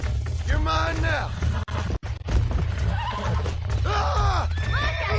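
A horse in the Red Dead Redemption video game neighs loudly and repeatedly in long whinnies, with clip-clop hoofbeats and a brief sharp break midway, close and dominant throughout.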